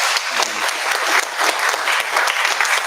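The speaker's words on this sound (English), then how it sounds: "Please, let's give a big round of applause for them too." Loud, dense applause fills the hall at a university concert, a continuous close wash of many hands clapping with no talk over it.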